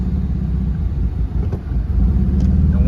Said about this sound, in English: as soon as I do that, my car just misfires